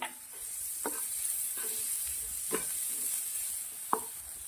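Ginger, chilli and garlic paste sautéing with onion and carrot gives a soft, steady sizzle close by, broken by several light stirring clinks and scrapes of a spoon against the pan.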